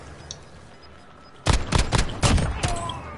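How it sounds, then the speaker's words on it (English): Gunfire in a PS4 shooter game: after a quiet lull, a rapid cluster of five or six sharp, loud shots bursts out close by in quick irregular succession, with faint background game ambience. "Oh, you're getting shot at."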